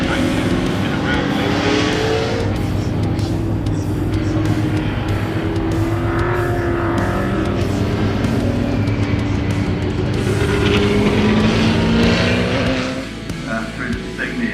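Race cars in the Mainland Muscle series, three classes at once, run up a circuit straight and round the bend, engines roaring and revving loudly and continuously with tire noise, a commentator talking over the top.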